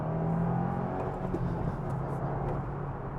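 A 2023 Subaru WRX accelerating hard through a corner, its engine note a steady, loud, close drone with a rising rev throughout, with no talk over it.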